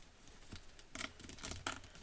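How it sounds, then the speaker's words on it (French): Unboxing a Granblue Fantasy Relink collector's edition package: faint, sparse crinkles, rustles and soft taps of cardboard and packaging being handled, with a few brief louder bursts near the end. "On va se déballer ça tranquillement."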